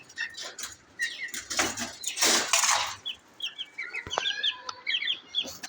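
Young Silkie chickens give soft, repeated chirps and clucks around a farm pen, with a burst of flapping or rustling in the middle, close and fairly quiet.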